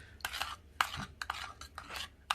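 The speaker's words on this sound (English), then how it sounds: "now I'm going to add some melted butter. Stir that around real good" A spoon stirs melted butter into a BBQ chicken mixture in a bowl, making several quick, close scraping and clinking strokes in an irregular rhythm, without talk.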